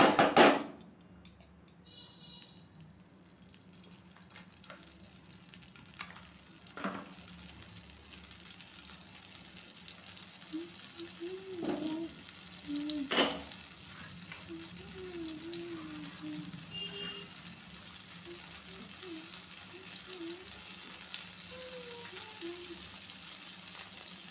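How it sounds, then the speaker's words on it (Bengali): Butter melting and sizzling in a wok on the stove while cooking butter paneer, a steady soft frying hiss throughout with a few faint clinks and taps, no talking. "এখন আমরা কড়াইতে আর একটু বাটার দিয়ে দেবো।"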